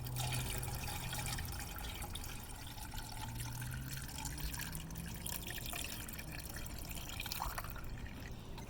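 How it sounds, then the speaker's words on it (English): Windshield washer fluid poured steadily into the reservoir of a Tesla, a continuous liquid trickle and glug that stays fairly even for several seconds against a low background hum. "just pour in your windshield washer fluid until you see it rise up"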